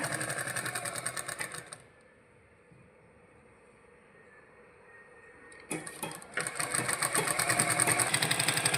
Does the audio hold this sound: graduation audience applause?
no